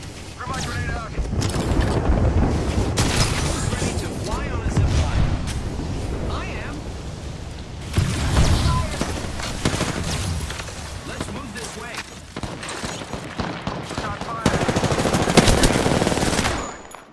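Heavy automatic gunfire and grenade blasts fill an Apex Legends match on Worlds Edge, near and loud, with shots rattling almost continuously and occasional booms rising above them.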